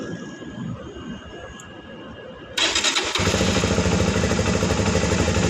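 A Rusi motorcycle engine, about eight months old, cranks and catches at once, then settles into a steady, loud idle close by, with no talking.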